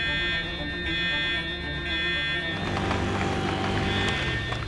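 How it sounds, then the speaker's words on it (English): An electronic alarm at a toy dinosaur park blares continuously with a steady high tone, joined midway by busier clattering noise. "The alarm's going!"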